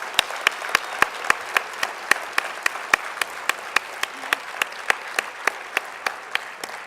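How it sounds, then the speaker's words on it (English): Steady applause at a sports hall of fame induction ceremony, sharp claps rising in an even, continuous patter from a large audience, loud and close with no talk over it. "let's give all of our inductees a huge round of applause"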